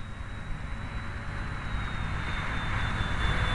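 RC model airplane electric motor running throttled back in flight, a steady continuous whine with a thin high tone, held at an even level throughout with faint wind noise, no talking.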